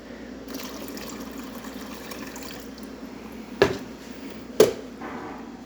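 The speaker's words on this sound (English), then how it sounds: "let me insert a little bit of water." Water trickles and splashes steadily into the water tank of a Gaggia Anima Deluxe espresso machine, with two brief sharper splashes or clunks partway through.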